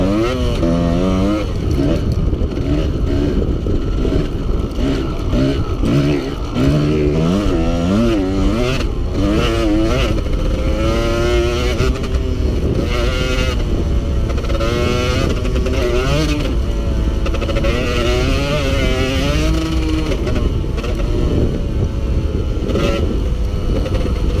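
A Yamaha DT 125R motorcycle engine drones loudly and steadily in third gear while riding on a motocross track, its pitch rising and falling with throttle changes throughout, close and continuous.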